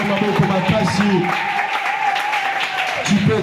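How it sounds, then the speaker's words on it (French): A church congregation claps and cheers in praise, steady applause mixed with shouting voices and some musical tones underneath. "Donne une grande offrande d'acclamation à l'Éternel des armées."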